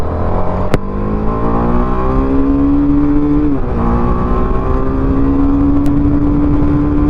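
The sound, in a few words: TVS Apache RR 310 motorcycle accelerating to rev limiter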